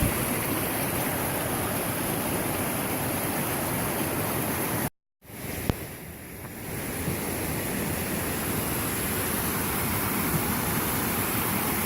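Rushing water of Chico Creek flows continuously and loudly, a dense hiss broken only by a brief dropout partway through.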